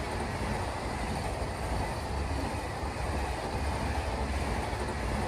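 Indian Railways Kashi Vishwanath Express in a train simulator game, rolling steadily with a continuous broadband rumble and rail noise, loud and unbroken throughout with no voices.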